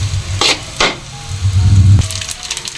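Dried labahita fish toasting in a pan, giving a steady low sizzle broken by a few sharp crackling scrapes, close and fairly loud with no talking.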